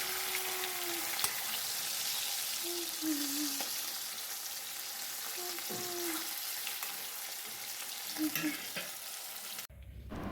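White oil heating in a kadai for fried shredded potatoes gives a steady close hiss throughout, with light clinks and tapping, then cuts off abruptly near the end.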